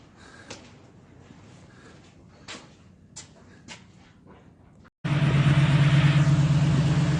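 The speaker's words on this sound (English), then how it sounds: "let's see if we can get the coupe started now" A Willys coupe's engine cranks over after the fuel pump is primed, then catches into a loud, steady running roar that cuts in abruptly after several seconds of quiet background with faint clicks.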